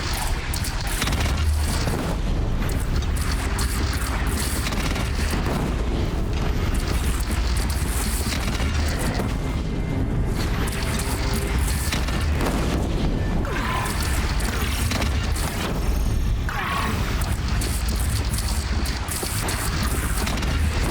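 Cannon fire and explosions from the video game Horizon Zero Dawn rumble in a dense, continuous barrage of heavy booms and crashes, loud and sustained throughout with no talk.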